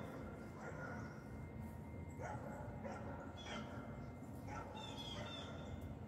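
Neighborhood dogs bark on a quiet morning, several faint, distant yips and woofs scattered across the stretch, with a soft background hum and a little low speech.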